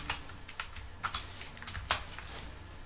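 Typing on a computer keyboard while writing Python code, a run of close, crisp keystrokes in an uneven rhythm with a few harder strikes, quiet background and no talking.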